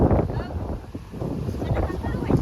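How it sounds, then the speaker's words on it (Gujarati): Gusty wind buffets the microphone with a low rumbling roar that swells and fades, with indistinct voices faintly mixed in. "વરસાદ આવવાનો હોય ઠંડો પવન આવ્યો"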